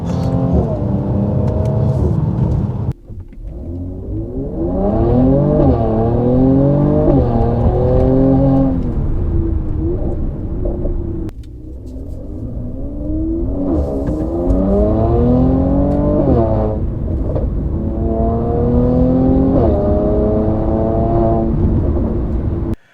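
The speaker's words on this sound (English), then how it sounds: "the sound of the pops and bangs in the exhaust is going to bounce" A Mercedes C43 AMG with a performance exhaust revs hard through rising gears twice, loud and close, with throaty exhaust crackles and pops as it lifts off between pulls.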